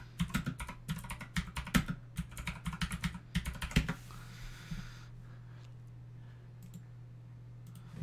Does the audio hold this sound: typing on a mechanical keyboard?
yes